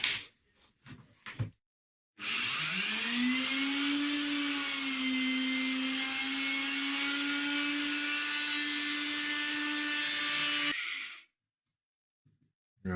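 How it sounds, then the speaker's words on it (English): A router cuts a pickup cavity into a fir guitar body, spinning up to a loud, steady high whine that holds for about eight seconds before winding down, with a few short knocks and handling sounds before and after. "I've just about routed to full depth."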